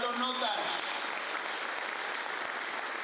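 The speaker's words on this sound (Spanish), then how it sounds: "dale un aplauso al Señor" Church congregation applauding the Lord in a sustained burst of clapping, even and continuous throughout, with voices mixed faintly into the applause.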